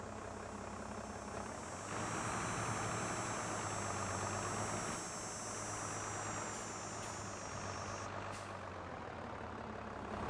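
Steady engine drone of a tractor in a farming simulator game, idling and running continuously at moderate loudness with a high whine layered on top and no talking.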